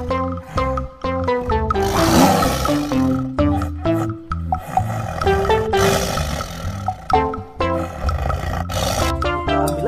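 A toy tiger lets out loud, repeated roars over about ten seconds, layered with musical tones that stay strong throughout with brief dips between bursts.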